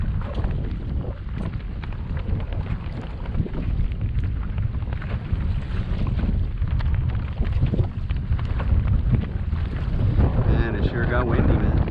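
Strong, constant wind buffets the microphone while kayaking on open water at Port Mansfield, a dense roar with gusts that swell toward the end, no voices heard.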